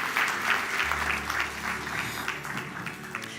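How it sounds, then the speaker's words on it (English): Audience applause at a launch event, a sustained warm round of many hands clapping at moderate volume, steady and even across the room. "Let's give him a warm round of applause as we close."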